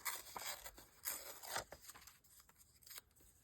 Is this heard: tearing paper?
yes